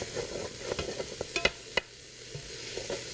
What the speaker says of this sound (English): I'm going to stir that pretty quickly into the mix.